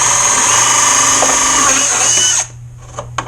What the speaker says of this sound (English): Got me a new drill from Zip Kits.